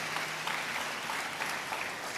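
Church congregation applauding during a Telugu sermon, a steady wash of clapping filling the whole short stretch at moderate level, with no clear voice on top.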